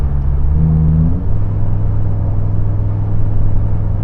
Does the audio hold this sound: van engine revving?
yes